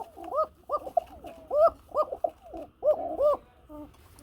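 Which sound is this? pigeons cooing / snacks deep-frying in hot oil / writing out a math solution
pigeons cooing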